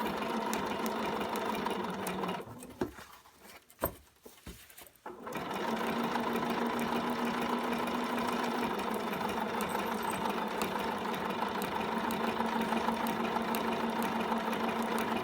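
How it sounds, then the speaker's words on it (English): A sewing machine runs steadily while stitching a zipper into denim blue jeans, a close, continuous mechanical hum that stops briefly for a few seconds before resuming at a constant pace. "I'm trying to keep what I'm sewing on straight."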